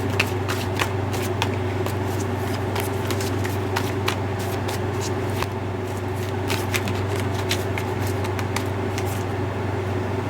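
Oracle cards being shuffled during a love tarot card reading, a steady run of soft riffling flicks and taps over a constant low hum, continuous and close throughout.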